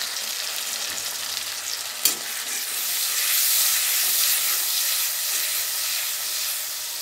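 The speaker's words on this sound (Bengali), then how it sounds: "এবার সুন্দর করে কষিয়ে নেব।" Spice masala with a splash of water frying and being stirred in a pan for puti fish curry, a steady broad sizzle with one sharp utensil scrape near the start, continuous and fairly close.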